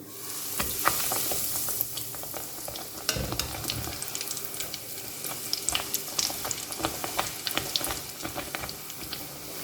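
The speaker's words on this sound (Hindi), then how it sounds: "अब इसे फ्राई कर लेंगे" Breaded chicken bread pockets frying in hot oil, a close bubbling sizzle with frequent sharp crackles and pops over a steady hiss, with no talk.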